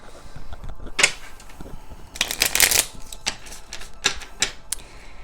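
Tarot cards being shuffled by hand during a reading, with a burst of riffling near the middle and scattered crisp card slaps and snaps before and after. No voice is heard over it.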